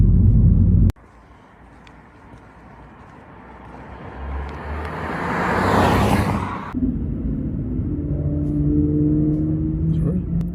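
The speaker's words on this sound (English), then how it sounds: "you can hear it, a bit of fruity note to it when you're revving up the engine a bit." A Ford Focus ST-line hatchback's inline-four engine revs, a sharp click and then a rising rumble that swells to a peak, drops, and climbs again, heard from inside the car with voices faintly present.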